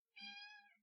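A single close, clear cat meow rises and trails off over less than a second in an otherwise quiet room.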